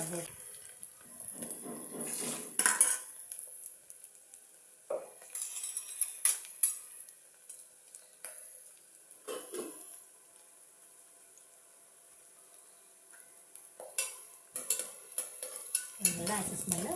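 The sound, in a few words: onions frying and being stirred in pan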